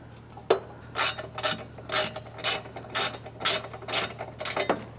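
Close ratchet clicking in regular bursts, about nine quick strokes over five seconds, while bolts are tightened on underbody protection brackets of a Ford Ranger Raptor, with no speech and a low steady hum beneath.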